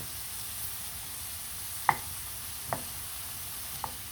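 Rice primavera with broccoli and zucchini being stirred in a hot pan: a soft continuous sizzle with three distinct scraping clatters of the utensil, fairly quiet and close, no voices.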